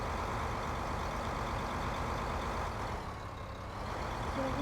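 A small tractor in Farming Simulator 15 on the Sosnovka map runs its engine in a steady, low, continuous drone with a slight dip midway, heard alone without any voices.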